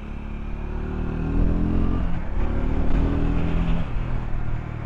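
A Triumph Scrambler 400X single-cylinder motorcycle rides in a short first gear, its engine a steady close low drone that rises slightly in pitch as the bike pulls along, with faint rattles in the mix.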